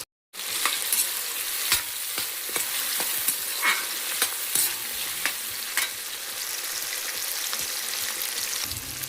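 Onions fry to light brown in a pan for a chicken curry, a close, continuous sizzle broken by repeated scraping stirs and crackles.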